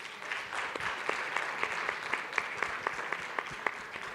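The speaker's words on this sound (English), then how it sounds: "let us give them a warm round of applause" Audience applause at a G20 seminar on mutual recognition, a steady wash of many hands clapping with sharp individual claps standing out, moderately distant and continuous throughout.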